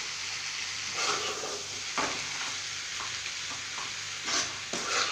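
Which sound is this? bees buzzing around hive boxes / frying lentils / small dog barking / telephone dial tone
frying lentils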